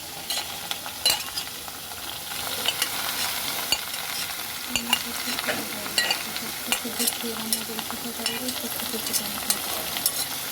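Steady sizzling of pumpkin peel frying in hot oil in a wok, with scattered clinks and scrapes of stirring throughout.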